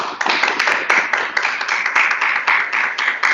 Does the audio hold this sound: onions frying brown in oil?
no